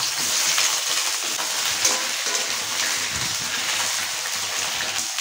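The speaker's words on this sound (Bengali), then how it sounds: "আবার বেগুনগুলো ভেজে নিচ্ছি।" Eggplant slices frying in hot oil on a stove, a dense, bright crackling sizzle that carries on without a break, close and loud, with a few soft stirring movements and no talk.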